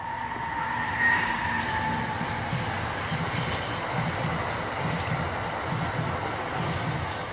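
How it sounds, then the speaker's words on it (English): Train passing at a steady distance, a continuous rumbling rush with faint rhythmic rail clatter and a thin high tone, moderately loud throughout. "I'll let that train go by."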